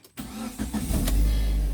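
A Proton Exora CPS car engine, recently fixed after wrongly fitted intake and exhaust valve springs, cranks briefly and fires into a loud, steady idle.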